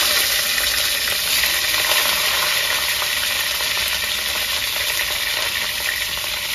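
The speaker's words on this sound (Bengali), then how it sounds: "ফুলকপিটা ভেজে নেব।" Cauliflower florets frying in hot mustard oil give a steady, loud, dense sizzle with a bright hiss that holds evenly throughout, close up and with no voices.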